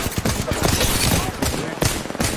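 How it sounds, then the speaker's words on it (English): Enemy gunfire in Apex Legends, dense rapid bursts of automatic shots crackling almost without pause, loud and close, with several sharp louder reports standing out. "The enemies are shooting at me"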